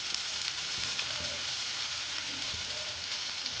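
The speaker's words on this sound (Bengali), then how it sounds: "আলুটা আমার বেশ মোটামুটি ভাজা হয়ে গেছে" Potatoes fry in oil with tempering spices, a soft, steady crackling sizzle heard close but at low volume, unbroken and without voices.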